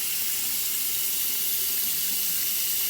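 Running tap water pours steadily while a makeup brush is rinsed under it, a continuous, even splashing hiss with no voices.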